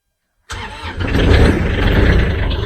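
A diesel engine cranks and fires after preheating on a cold morning of about 22 degrees with a wind chill near 12, then settles into a loud, steady running rumble after a moment of silence.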